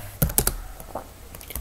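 Typing on a computer keyboard into a terminal on a Debian desktop, a short burst of close, crisp key clicks in an irregular rhythm, alone without talk.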